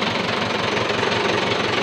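A farm tractor engine runs steadily and loud in an open field, a dense continuous knocking rumble with no talk over it.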